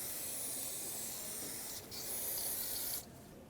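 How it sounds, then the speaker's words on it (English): A steady spray of brake parts cleaner hisses continuously while cleaning rear brake parts on a 2007-2014 Chevrolet Silverado 2500 HD, pausing briefly once before resuming, then cutting off near the end. "Use brake parts cleaner, spray this all down."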